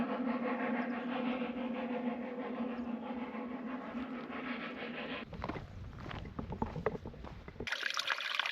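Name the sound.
steam train passing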